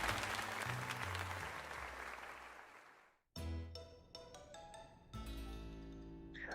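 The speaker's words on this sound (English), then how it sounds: "let us give another heartfelt round of applause for Denzo" Crowd applause in the Pokémon Legends Z-A video game, a dense steady clapping wash for about three seconds that cuts off, followed by tonal game music and chimes.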